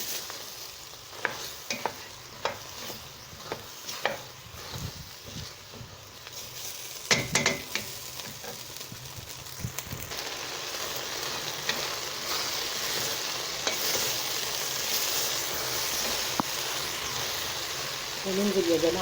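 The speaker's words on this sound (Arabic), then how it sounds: "وبنشوح اهو برضه يا جماعة" Okra tajine ingredients sautéed in a pan, with a spatula scraping and tapping in an uneven rhythm at first, then a steady, louder sizzle that takes over. A voice speaks now and then over the cooking.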